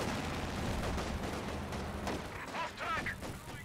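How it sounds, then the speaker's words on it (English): Sniper shots and cannon fire in Company of Heroes 2, rendered as a dense, fairly quiet wash of distant battle noise with repeated thuds and cracks that runs continuously. "Sniper firing away, hitting the Volks. The cannon warfare fires."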